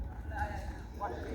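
Racehorse hooves thud on the exercise track at Caymanas Park in a faint, steady clip-clop rhythm, heard at a distance beneath a commentator's continuous talk.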